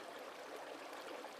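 Hatchery Creek flows into Michael's Brook at the head of the upper Nicomekl, a steady, even rush of running stream water with a soft gurgling texture, continuous and moderately close, with no voices.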